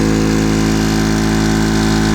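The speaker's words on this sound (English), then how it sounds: "let's go ahead and run it next to this one" A Makita MAC320Q quiet air compressor, a 1.5 hp, 3-gallon unit, runs with a steady, loud mechanical drone and a low motor hum that holds unbroken throughout.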